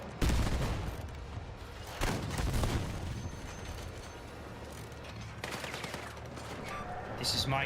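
Video game gunfire aimed at the player, rapid automatic bursts and scattered shots at moderate distance, coming in several waves with some background clatter.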